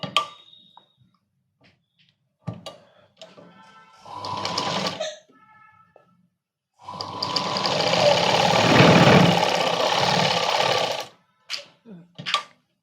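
A sewing machine stitches a side seam of a Punjabi dress in short bursts, one long run of close mechanical whirring in the middle, with brief starts and pauses around it and near silence between.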